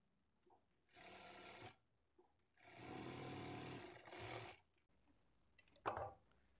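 A sewing machine stitches a folded shape belt on a blouse in two sustained runs, the longer one about two seconds, with short pauses, a faint handling tap and a brief rustle near the end.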